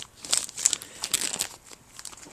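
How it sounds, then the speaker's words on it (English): Plastic bag packaging crinkling and rustling in bursts right against a camera at a busy convention, New York Comic Con 2011, with sharp crackly peaks and brief pauses. "Fuck you, plastic bag."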